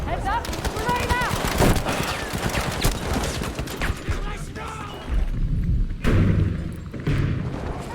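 A grenade explosion and gunfire in a video game battle, heavy thumps and rapid shots layered over dense action sounds while people talk.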